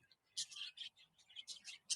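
Wild birds in a park garden give bright, high chirps and short calls in irregular bursts, close and clear against near-silence, with no talk over them.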